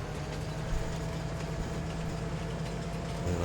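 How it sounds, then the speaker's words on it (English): Train being driven in the video game Farming Simulator 22, giving a steady, quiet low engine drone with a faint rail hum, continuous and with no talking. "So now all we need to do is just hop into the train and drive the train."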